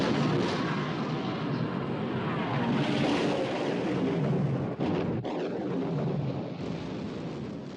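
Battleship guns opening fire in a naval battle scene from the film Sink the Bismarck, a continuous heavy roar broken by a couple of sharp blasts around the middle, fairly faint overall.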